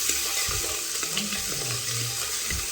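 Cubed potatoes and vegetables sizzle steadily in a hot pan for a simple khichdi, with soft scraping and stirring sounds and no talk over the continuous frying hiss.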